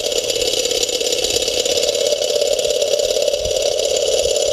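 Small Stirling engine model running on solar heat without combustion, giving a steady, continuous mechanical whirr and hum with a faint rattle, close and even throughout with no talking.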